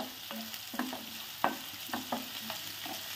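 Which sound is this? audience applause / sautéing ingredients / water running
sautéing ingredients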